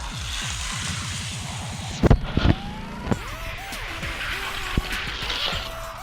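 Hot Wheels toy cars, Racer X against an Ultra Hots Porsche, rolling and clattering along a plastic track with sharp impact bangs and rattling, close and fairly loud, with a whining tone under it.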